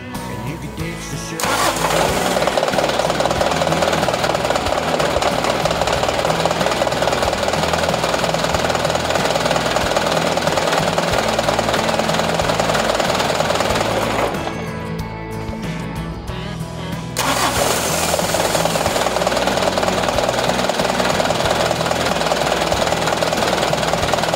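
A Mitsubishi Canter truck's diesel engine cranks and catches, then runs at a loud, steady idle close by, with a brief dip partway through before settling back to a constant rumble.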